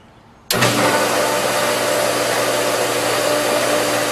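A pool pump motor switches on abruptly after a brief quiet moment, then runs as it primes with a steady, loud hum and broadband whirring rush that holds constant to the end.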